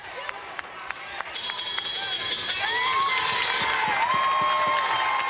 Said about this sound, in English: Crowd on its feet for Jaime Clampitt.